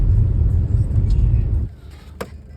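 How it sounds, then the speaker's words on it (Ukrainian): A car on a frosty road gives a steady low rumble of engine and tyre noise, loud and close, that drops away suddenly partway through and leaves a quiet interior with a brief sharp click. "Їду по Діму, Діма тут в сусідньому селі, підбираю його і їдемо на Тернопіль"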